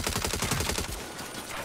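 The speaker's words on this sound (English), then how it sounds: "why am I seeing gunfire at the back of that convoy?" Rapid automatic gunfire in the Saints Row video game, a loud burst of fast repeated shots that ends abruptly partway through, leaving a rumbling background.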